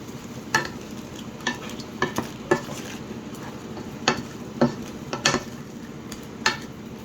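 Crab simmering in coconut milk with added water is stirred in a pan, giving scattered scraping clinks of the utensil over a low bubbling sizzle, with no talking.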